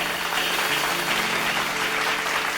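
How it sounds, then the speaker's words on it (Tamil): A church congregation claps at a Sunday Tamil service, a dense, continuous burst of applause from many hands throughout. "கைத்தட்டுங்க"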